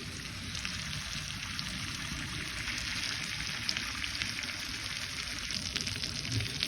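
Rohu fish frying crisp in a pan of hot oil, a dense, even sizzle with fine crackles holding steady throughout, close and fairly loud with no talking.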